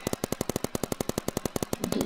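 Paintball guns firing in a rapid, even burst of about twenty sharp pops over two seconds, close and loud, with a rougher rustling noise at the end.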